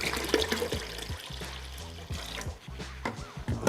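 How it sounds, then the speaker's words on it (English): Water splashes and gurgles as it is poured into a pot, a short, uneven stream that is moderately loud. "So we're gonna add some water in there"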